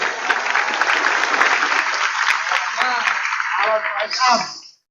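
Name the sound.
audience applause for a speaker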